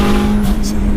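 A 550bhp Mitsubishi Evo 6 with a 2.3 stroker engine and screamer pipe accelerates hard, a loud, raspy engine roar heard up close from inside the car for about a second.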